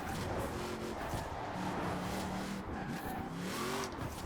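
NSX-R GT race car in Forza Horizon 4 accelerating hard, its engine note steady and loud throughout with rising pitch sweeps as it pulls out of corners, no talking over it.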